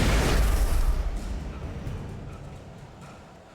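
A flashbang grenade goes off in the video game Alan Wake as a loud, close, broadband boom that rings out and decays over a few seconds.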